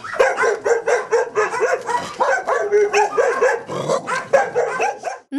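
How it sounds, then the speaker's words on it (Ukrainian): Many dogs at a stray-animal sterilization shelter bark and yip continuously in a loud, overlapping chorus, with repeated sharp barks and some whimpering close by. "Нині в стерилізаційному центрі бездоглядних тварин перебуває близько 70 собак."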